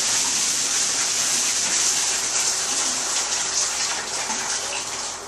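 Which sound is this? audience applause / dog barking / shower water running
shower water running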